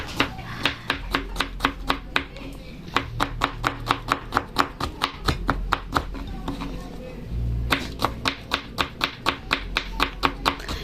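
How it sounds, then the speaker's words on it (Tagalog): Garlic being chopped with a knife on a cutting board for pancit canton, a fast steady run of sharp close knocks that pauses once mid-way, then resumes, with a soft low hum underneath. "Yan ang bawang naman po ang kanyang hihiwain"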